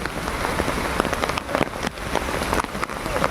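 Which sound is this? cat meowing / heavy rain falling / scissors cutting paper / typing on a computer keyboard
heavy rain falling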